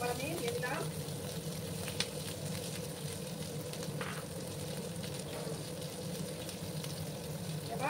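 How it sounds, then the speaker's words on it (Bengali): Chopped onions frying in a pan for a bitter gourd and potato curry, giving a steady, moderate sizzle and crackle throughout with occasional stirring scrapes, close by and unbroken. "এবার আমি পেঁয়াজগুলোকে একটু লাল লাল করে ভেজে নেব।"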